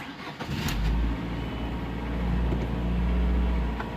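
A rebuilt 2002 Saturn SL1 engine idles close by, a steady low rumble that swells slightly and settles, with no voices.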